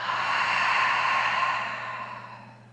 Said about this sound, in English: Focus on the sound of your breath as you inhale in and exhale out.